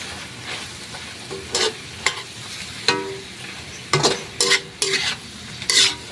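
Pork offal adobo being stirred in a frying pan as the sauce cooks down, with a steady low sizzle and several distinct bursts of utensil scraping and stirring spread across the clip, no talking.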